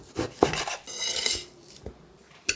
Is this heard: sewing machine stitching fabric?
no